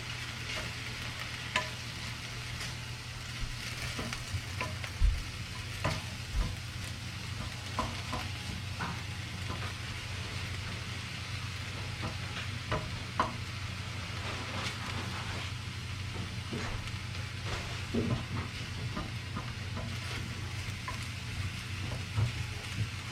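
Mushrooms, 150 grams, frying on low heat in a pan, giving a steady close sizzle and crackle with a low hum running underneath and occasional small clicks and pops throughout.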